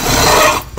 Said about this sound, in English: If you grab on to the loose piece of webbing and just pull,